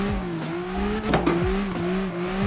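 Virtual car drifting in the CarX Drift video game, with a steady, loud engine drone that climbs and drops as the gears shift and the revs swing, plus brief tire-squeal bursts, continuous across the whole stretch.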